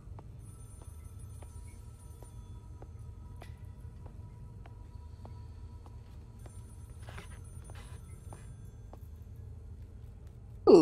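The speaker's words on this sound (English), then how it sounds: "It said follow the sound of the phone." A telephone in the horror game Maid of Sker rings faintly in regular short bursts against a low ambient hum, and a sudden loud sound breaks in at the very end.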